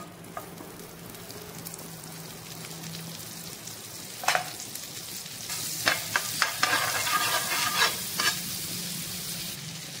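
Butter heats on a tawa before paneer goes in, starting as a faint quiet sizzle. It turns into louder crackling and spattering bursts in the second half.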